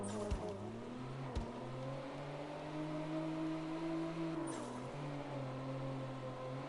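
A car engine in the Drift X Sim driving game holds a steady, droning rev with layered harmonic tones that dip and rise slightly, and two sharp clicks break in near the start and again around the middle.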